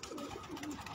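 At a pigeon-flying tournament, a brief stretch of low pigeon cooing rolls on in soft overlapping phrases, moderately near, without voices.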